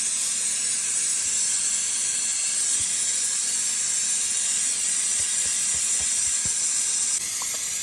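Jollof rice sauce in a pot on the stove sizzles with a steady loud hiss, with scattered pops and splashes throughout.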